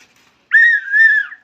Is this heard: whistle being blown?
yes